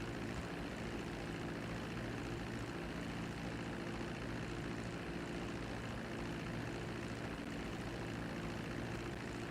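Airplane engine in GTA 5 droning steadily with a propeller hum while taxiing toward the runway, constant and fairly loud with no talk.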